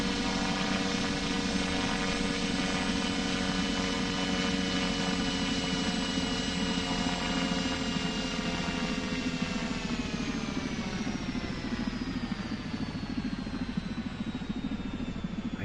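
Heavy autogiro coming in to land on a boat, its engine and rotor droning loudly and steadily throughout, with a strong harmonic whine that slowly drops in pitch as it settles.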